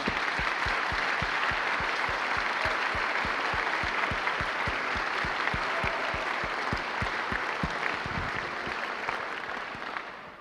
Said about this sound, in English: Would everybody join me in applauding our young scholar athletes?